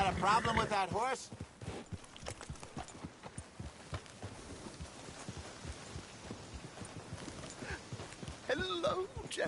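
Horse hooves clip-clop at a steady walking rhythm in Red Dead Redemption 2, moderately close, with game characters talking at the start and end.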